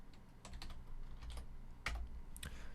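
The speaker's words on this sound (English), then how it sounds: "Just type that in." Rapid typing on a computer keyboard, a quick run of close, crisp key taps with a heavier strike near the end, while a 2.25 value is entered for a molding profile guide in SketchUp.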